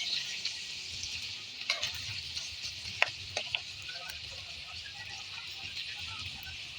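String beans for adobong sitaw fry and get stirred in a pan, giving a soft, steady sizzle with scattered light scrapes and clicks from the stirring.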